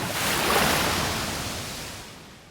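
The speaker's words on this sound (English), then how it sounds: "A wave splashes nearby." A single ocean wave surges and splashes onto a sandy beach nearby, a broad rushing wash that swells quickly and then slowly fades, with no voices over it.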